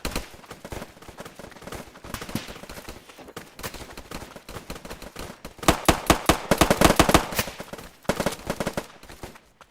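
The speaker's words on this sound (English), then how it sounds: "We have some shooting going on." Rapid gunfire in a wargame match of a video game, dense bursts of automatic and single shots that swell louder midway, nearly continuous with no talking.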